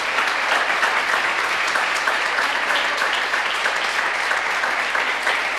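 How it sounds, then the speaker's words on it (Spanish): Congregation in a church applauding, a dense, steady wash of many hands clapping at full volume throughout, without pauses. "Den un aplauso grande a Cristo."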